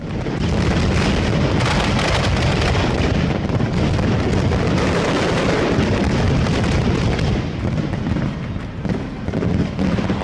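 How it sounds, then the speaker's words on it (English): Dense, continuous crackling and booming of firework shells bursting overhead, loud and sustained with overlapping rapid pops and no voices. "그러고 나서 저희가 아는 하늘에서 터지는 소리가 납니다."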